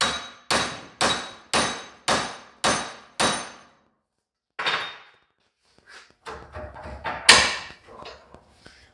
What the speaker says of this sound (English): take the big hammer here and just work it around.